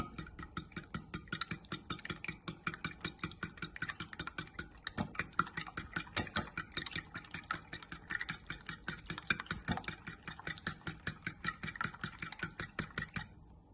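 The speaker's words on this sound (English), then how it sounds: "I'm just going to give that a quick mix with a fork" A fork quickly whisking vanilla essence in a small bowl, rapid regular clicking and tapping strokes against the bowl repeating steadily throughout, close and distinct with no talking.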